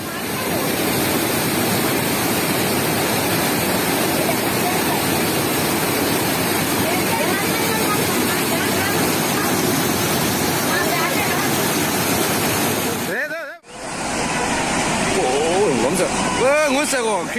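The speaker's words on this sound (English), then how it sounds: "Check out this devastating flood in the Indian state of Kerala." Floodwater in Kerala, India, roars as a loud, continuous broadband rush with no letup, cut by a brief dropout near the end before the churning resumes.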